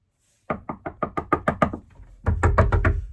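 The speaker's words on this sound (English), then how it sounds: "Knocking on wood" Knuckles rap on wood in a quick run of about eight close, crisp knocks, a short pause, then another burst of five or six louder knocks.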